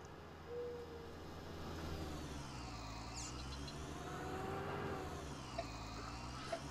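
A New Holland TM series tractor in Farming Simulator 19 holds a low, steady engine drone with slight pitch sweeps as it throttles, plus a few faint clicks near the end; no talking is heard.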